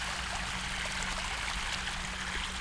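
A jet of water pours steadily into a cold outdoor swimming pool. The splashing and gushing is close and continuous, with no voices over it.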